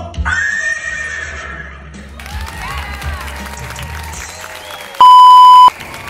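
A horse whinnies near the start in a long, wavering, high neigh over a low background rumble, followed by murmuring and a short, steady electronic beep toward the end.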